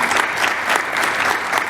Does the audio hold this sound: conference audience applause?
yes